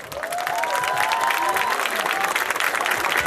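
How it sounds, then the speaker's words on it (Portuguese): Audience applause at a dance school's International Dance Day show, steady and sustained throughout, with a presenter's voice carrying over the clapping. "Nilson Tavares, daqueles aplausos!"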